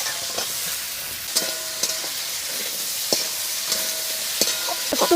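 Drumsticks, raw and ripe tomatoes and potatoes fry in a village kitchen pan, a steady hissing sizzle with scattered sharp scrapes and knocks as a spatula stirs the mixture, close and continuous.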